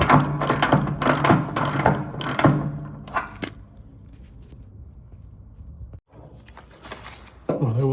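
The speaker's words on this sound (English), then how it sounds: "if you've got a die nut, it just makes it a little bit easier. You can wind it all the way on" A die nut is wound along a threaded part on a Mack CHR truck being tidied up, giving a rapid run of close metallic ratcheting clicks that thin out into quieter scraping and faint handling noise.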